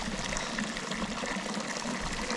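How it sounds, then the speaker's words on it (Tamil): A mountain stream rushes over rocks in Nubra Valley near Diskit, Ladakh, a dense, steady, close-up wash of flowing water with no breaks. "இங்கேருந்து பார்த்தா நல்லா இந்த வாட்டர் ஃப்ளோ நல்லா இருக்குது."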